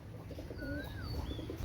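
A pair of imported-bloodline Pakistani pigeons calls softly over low background noise, giving a few rising, wavering tonal notes in short succession.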